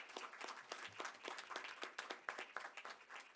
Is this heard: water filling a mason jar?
no